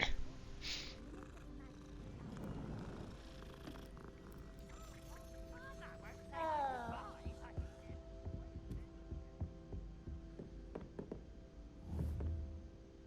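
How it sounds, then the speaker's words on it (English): A cat purring steadily while being petted in the video game Hogwarts Legacy, a low continuous throb running under game music and a person talking. "Oh my god, I can pet the cat."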